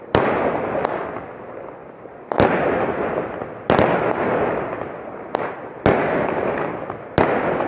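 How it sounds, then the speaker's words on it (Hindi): Fireworks bursting over a spring festival at a stadium complex, sharp loud cracks every second or so followed by sizzling, crackling tails, with no speech. "नाजरीन आप देख सकते हैं आतिशबाजी के मनाजिर।"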